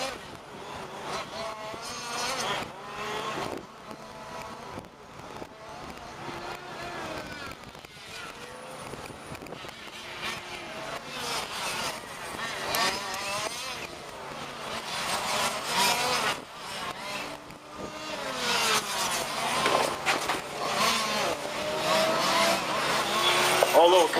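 Fifth-scale RC race cars race in a Grand Prix main event, their whining engines rising and fading as they pass, under continuous announcer commentary.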